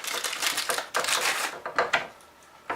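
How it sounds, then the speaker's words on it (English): Hard, thin MRE cracker biscuit from a British 24-hour ration pack being crunched close up, a run of dry, crumbly cracking bites in bursts with short pauses between them. "Nice hard cracker. I don't know if you can hear that, but it's very hard, kind of crumbly."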